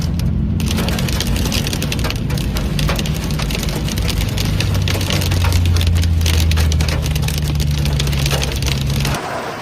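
Heavy rain mixed with hail pounds down in Tokyo during a sudden thunderstorm, a loud, dense and continuous clatter of impacts with a deep rumbling undertone that barely changes over the whole stretch.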